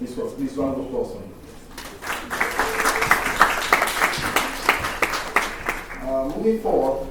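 Round of applause from the audience at a medical school white coat ceremony, clapping swelling up after brief speech and holding steady for several seconds before talk resumes over it.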